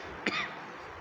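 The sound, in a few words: cough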